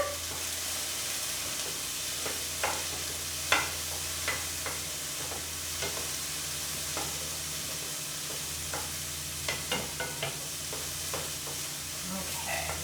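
Peppers and onions sizzle steadily in a hot pan, a constant frying hiss broken by scattered clicks and scrapes of stirring.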